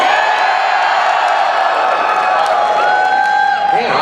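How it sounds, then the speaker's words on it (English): An audience at a comic convention panel with actor Jason David Frank roars and cheers continuously, a loud, dense wall of whoops and shouts with a whistle rising near the end. "I gotta get a cheering shot into my vlog"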